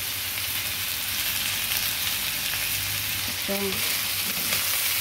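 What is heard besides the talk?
chicken wings sizzling in a pan for chicken adobo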